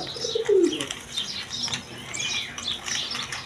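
Indian Bombay pigeons with white beaks, kept for sale, give a low coo and a burst of wing flapping, close by, over softer chirps and rustling from other birds.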